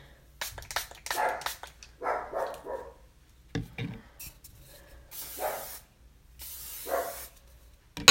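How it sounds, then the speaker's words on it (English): Thermal protectant spray misted onto hair from an aerosol-style can: two bright hissing bursts of a second or so each, close to the mic, set among handling noises and brief rustles. "This is it's thermal protectant spray. It comes out like a hairspray"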